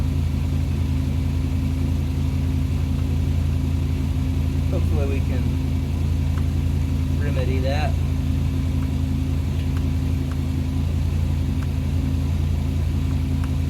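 An International Travelette truck engine turns over and idles rough with an uneven gallop, a steady low rumble running throughout while someone talks over it.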